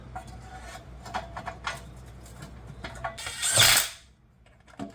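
A power tool set to bolt mode works a bolt on a Cuda being prepped for an event, giving a series of short ratcheting clicks followed by one longer, louder burst, then a final click.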